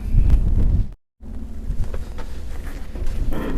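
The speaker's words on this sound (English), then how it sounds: "It is a bit windy out here today." Gusty wind buffets the microphone in low rumbling roars, briefly cutting out to silence before the blustery rush returns.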